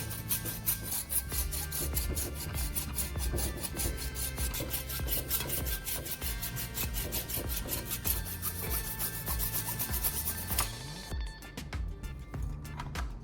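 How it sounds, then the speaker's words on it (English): Steady rasping strokes of a saw cutting off a wooden pin on a hammer handle, continuous and close, with a repetitive back-and-forth texture throughout. "I use a saw to cut off the excess part of the wooden pin"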